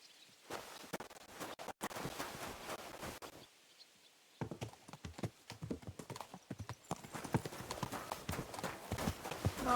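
Horse hooves clip-clop steadily through most of the stretch in the medieval role-playing game Kingdom Come: Deliverance II, close and rhythmic, with a brief pause midway and a faint whinny-like sound among the steps.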